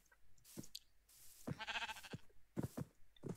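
Sheep bleating in a video game set in a Five Nights at Freddy's world, with white sheep and a single black sheep on flat open ground; several short, fairly quiet bleats come in separate bursts with short gaps between them.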